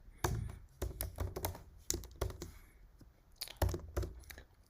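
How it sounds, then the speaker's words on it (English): Quick bursts of clacking keys on a computer keyboard, fairly close and distinct, with short gaps between runs of typing and no talking. "So just type in print"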